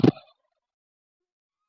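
A single short turkey gobble from a heavy tom of about 5.5 to 6 kilograms, close and loud for a fraction of a second before falling silent.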